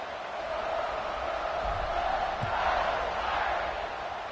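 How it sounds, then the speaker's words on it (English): A large stadium crowd in the College Football 26 video game keeps up a steady, dense roar and murmur that stays even throughout at moderate loudness. "this crowd is buzzing after that last score"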